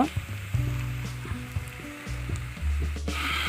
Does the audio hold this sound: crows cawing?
no